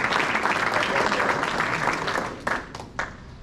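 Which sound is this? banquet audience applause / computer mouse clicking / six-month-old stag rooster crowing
banquet audience applause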